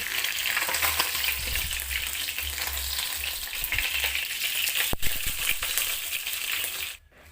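Fish fries in hot oil in a pan, a loud, dense, close crackling sizzle that runs steadily for about seven seconds, with a sharp metallic tap partway through and a sudden drop near the end, with no voices.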